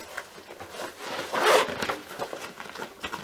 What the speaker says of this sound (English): let me get the zipper